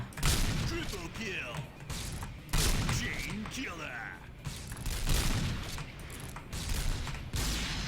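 Gunfire from a Cheytec M200 sniper rifle in a shooting video game, with loud repeated shot bursts and thuds at irregular intervals under constant talking throughout.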